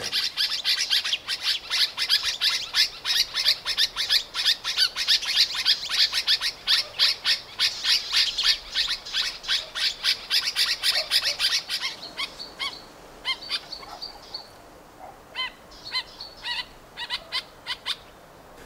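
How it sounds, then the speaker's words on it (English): A flock of black-eyed bulbuls in Blyde Canyon mobs something with rapid, harsh chirping, dense and continuous at first, then thinning into scattered bursts of calls. "noise created by a bunch of black eyed bulbuls in really chirping and mobbing something"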